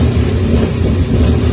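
A Chevrolet Corvair engine with carburetors in need of cleaning idles steadily, a constant low rumble running without pause, with faint higher hiss above it.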